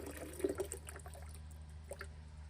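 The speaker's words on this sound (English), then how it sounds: "I'm just literally running water in here." Water runs quietly from a low-pressure source into a container in a greenhouse, a soft steady trickle with faint splashes, distant and low in level.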